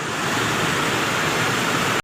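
Steady, loud rush of a waterfall beside a river, a dense continuous roar with no voices, cutting off abruptly at the end.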